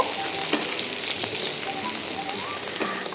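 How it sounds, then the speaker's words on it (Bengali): About half a cup of chopped onion fries in a pan for a pumpkin and hilsa fish dish, giving a steady, close sizzle throughout with a few soft stirring clicks and no talking. "পেঁয়াজটাকে আমরা ভালো মতো ভেজে নিব।"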